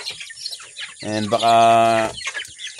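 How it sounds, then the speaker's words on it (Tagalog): A native rooster on a chicken farm crows once, loud and close, with a drawn-out harmonic call lasting about a second, while someone speaks briefly before and after it. "yung roster natin dun na size, nag-umpisa ng tumilaok"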